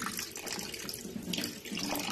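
Clean water pours and splashes steadily while atta dough is being washed, a close, bright running stream with no talking.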